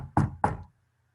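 Two firm knocks on a door, close and crisp, evenly spaced, then quiet.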